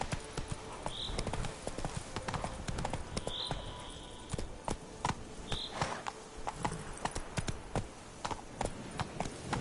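Horse hooves gallop in The Witcher 3, a fast, steady clip-clop rhythm of hoofbeats close up, with a few brief higher tones over the pounding.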